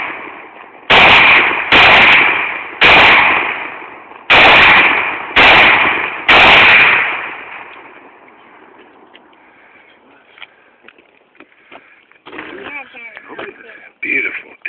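Six loud, close gunshots fired in an irregular sequence, each a sharp crack trailing into a long echoing decay, followed by a quieter stretch with faint outdoor sounds and brief voices.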